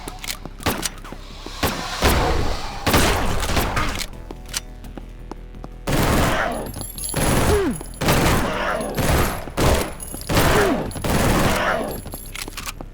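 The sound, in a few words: gunfire from video game The Last Exterminator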